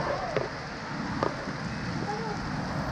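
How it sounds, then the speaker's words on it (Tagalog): Heavy rain pours steadily on a house in the Philippines, a dense continuous hiss with a few brief sharper impacts and people talking faintly under it. "Lumakas tuloy ang ulan"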